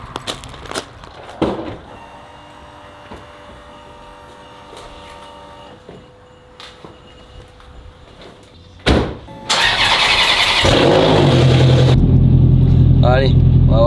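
A Ferrari F430 is started, with clicks and interior handling first, then an abrupt, loud engine catch and a strong, steady rumble close by as it begins driving.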